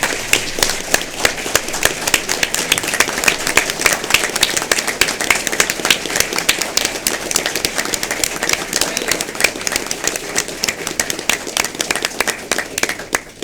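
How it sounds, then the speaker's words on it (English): Sustained applause for a student at a school district and criminal justice board meeting, a dense steady patter of many hands clapping indoors for over ten seconds, with no speech over it. "Let's give her a round of applause."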